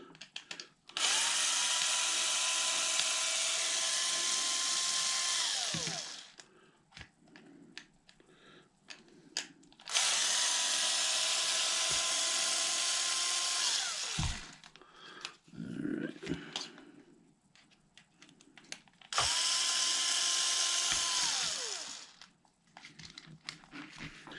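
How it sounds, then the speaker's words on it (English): Three separate bursts of a power tool driving out the rear screws of a Traxxas Maxx RC truck, each a whirring drone of several seconds that slows as it stops, with quiet handling clicks and rustles between the bursts. "in order to take this wheelie bar off, you do have to remove these two rear screws"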